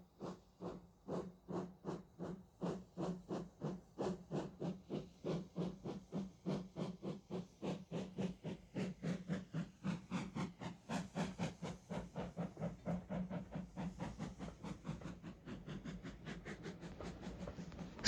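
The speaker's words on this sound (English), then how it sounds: "A slow freight train stops at every station on the line to pick up and set down more freight cars." Steam freight train chuffing in a steady rhythm of strong exhaust bursts that quicken slightly, with hissing steam throughout, close and loud with no talk.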